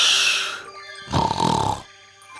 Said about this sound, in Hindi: ये खर्राटे की क्या आवाज है।